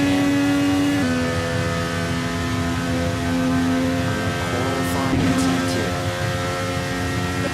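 Indycar race car engine in a racing video game at the Phoenix oval, a steady droning whine holding pitch with a brief shift near the end, continuous and loud with no talk.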